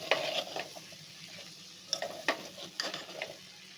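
Chickpeas roasting in a spicy masala for chole rice, stirred with a spoon that scrapes and clinks against the pan in short bursts over a low, steady sizzle.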